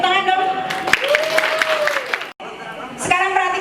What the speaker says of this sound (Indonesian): lanjut, tepuk tangan dong